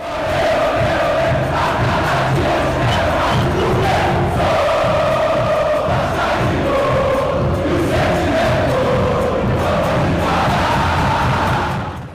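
Channel intro jingle for a Vasco fan channel: a loud, dense stadium-crowd chant with sustained sung tones, continuous and full for about twelve seconds, with no talk over it.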